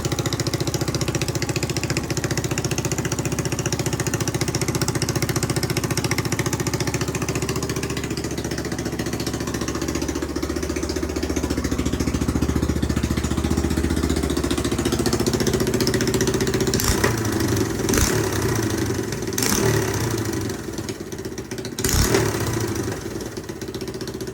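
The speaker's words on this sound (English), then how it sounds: "Got a little backfire there, I think, because of this opening." A Honda XR200 motorcycle engine, just rebuilt and fitted with a cheap carburetor, idles steadily and loudly, then several sharp backfire pops burst out near the end.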